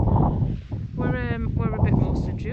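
Wind gusts roar and buffet across a hillside wild camp at night, a constant noisy rush broken by short spoken remarks.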